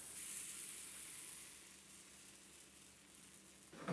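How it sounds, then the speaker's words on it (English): A thin Hungarian palacsinta crepe frying in oil in a pan gives a soft, steady sizzle, faint and constant, with a brief clatter near the end. "Just gonna quickly fry the pancake."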